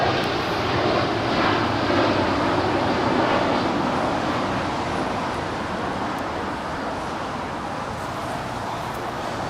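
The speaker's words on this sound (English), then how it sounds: "We have Alaska Airlines in the One World livery about to touch down here on the south side." An Alaska Airlines Boeing 737-900ER in One World livery lands on the south side at Los Angeles LAX, its engine rumble a steady mid-distance wash that slowly fades, with a little road traffic noise mixed in.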